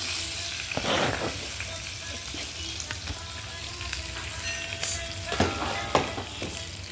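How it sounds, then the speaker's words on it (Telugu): Green chillies frying in hot oil with cumin seeds: a steady, close crackling sizzle, with a louder burst of spatter around the start and again near the end, plus light stirring scrapes. "పచ్చిమిరపకాయలు వేస్తున్నాను"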